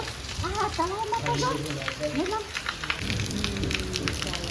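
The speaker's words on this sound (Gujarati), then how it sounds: "ઓલરેડી વરસાદ ચાલુ થઈ ગયો" Steady rain hissing down, with a person talking over it for the first few seconds.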